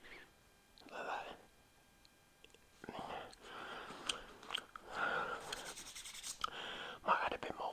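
Gum is chewed softly and close to the mic in wet, irregular smacks and crunches during a gym workout, with faint whispering and quiet rustles between the bites.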